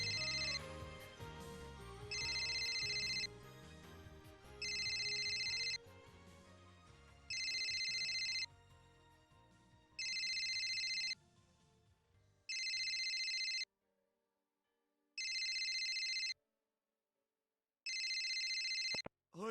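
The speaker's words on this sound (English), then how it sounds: "Is your phone ringing?" An electronic phone ringtone sounds in repeated bursts, first over music that fades out, then alone with silent gaps between rings.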